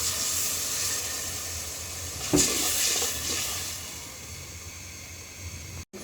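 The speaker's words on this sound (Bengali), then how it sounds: "এবার হচ্ছে মশলা কষানোর কিন্তু পানি দিয়ে দিলাম।" Water poured into a pan of frying spices for khichuri, a steady sizzling hiss with a brief louder splash and surge midway, then a settling sizzle, no voices.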